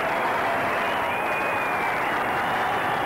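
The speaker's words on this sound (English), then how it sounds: "To a tremendous round of applause." A rugby crowd at Norton Park for Widnes versus Leeds bursts into a sustained, dense round of applause, a steady roar of clapping from a large stadium audience that holds evenly throughout.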